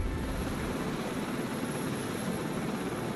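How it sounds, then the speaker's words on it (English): A rescue helicopter hovers at a tilt over trees while a casualty in a cradle is lifted on a weighted high line during a forestry winch extraction. Its rotor and engine roar stays loud and steady throughout, with no talking. "whilst the aircraft is in a tilted position to keep them clear of the trees"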